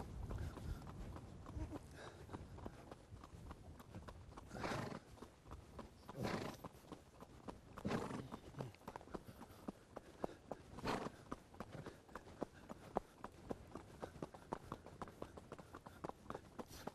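A horse trots, its hoofbeats a steady, faint clip-clop rhythm heard from a distance with occasional louder thuds, and no voices over it.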